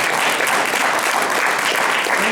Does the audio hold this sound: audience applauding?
yes